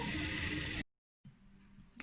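Cold tap water rushes steadily as tie-dyed fabric is rinsed, then cuts off abruptly and gives way to quiet room tone with a faint knock.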